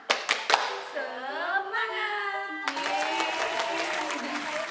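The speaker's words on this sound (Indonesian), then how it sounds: "Tepuk semangat." Indonesian third-grade primary class doing a rhythmic spirit clap, a few sharp claps followed by children chanting together in unison, close and lively.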